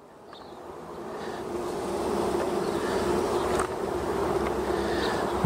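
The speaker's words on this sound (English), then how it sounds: "There's a bee trying to find its way in there." Honey bees hum steadily at a hive entrance, a dense, continuous buzz of many insects close by that swells gradually and holds, with no voices.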